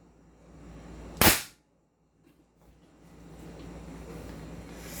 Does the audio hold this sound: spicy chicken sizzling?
no